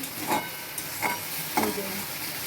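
Curry masala for a raw banana kofta curry fries and is stirred in a pan, a soft steady sizzle broken by three distinct scraping stirs, close and fairly quiet.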